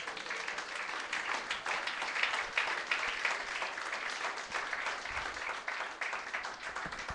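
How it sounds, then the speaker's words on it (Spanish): A church congregation applauds together during a Spanish-language Sunday school sermon, a steady wash of many hands clapping that carries on evenly for several seconds at moderate distance, with no voices standing out. "Dele un aplauso al Señor."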